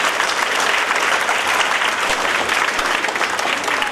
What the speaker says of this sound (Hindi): आप सभी हजरात एक मरतबा दिल से जोरदार तालियां बजाएं।